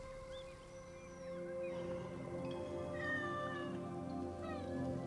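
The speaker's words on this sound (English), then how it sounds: "It's a cat." A cat in the video game Assassin's Creed Origins meows and caterwauls in a long, drawn-out wail over a steady tonal game background, fairly loud and with no talking.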